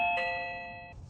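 A Reolink Video Doorbell 2nd Gen chime rings once, bright electronic tones decaying quickly in a quiet room.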